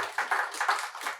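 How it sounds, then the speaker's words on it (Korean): A church audience at a Sunday afternoon lecture claps together, a short burst of quick overlapping hand claps in a room, moderately loud and without speech. "박수를 많이 치시나 봐요"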